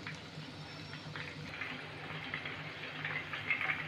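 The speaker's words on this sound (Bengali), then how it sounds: "এইভাবে 10 থেকে 15 মিনিট আমি ফ্রাই করে নেব।" Chicken pakora fries in oil over low heat, producing a steady, soft, bubbling sizzle that stays faint and even throughout, close by with no talking.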